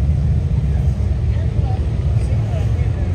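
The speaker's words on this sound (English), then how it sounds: "you see a steady stream of bikes coming into the property." Steady stream of motorcycles arriving at Black Hills Harley-Davidson during the Sturgis 2024 rally: a continuous low engine rumble blended with crowd babble and voices, no single bike standing out.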